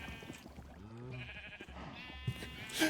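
Sheep bleat in a Minecraft-style video game, a couple of wavering game-sound calls over background game noise, with a voice talking faintly beneath.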